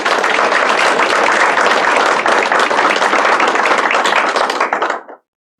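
Full, sustained clapping from an audience at a technical college signing ceremony, steady and loud for about five seconds before ending abruptly.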